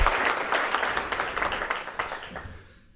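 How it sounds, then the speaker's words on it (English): An audience at a teen distracted-driving prevention summit applauds, a dense burst of clapping that holds steady and then fades out over the last second. "give him a round of applause"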